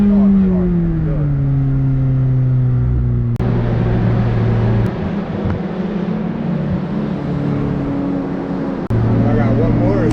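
A McLaren 600LT Spider on a track, its engine note droning steadily and shifting pitch as it accelerates, close and loud throughout, with a voice coaching over it.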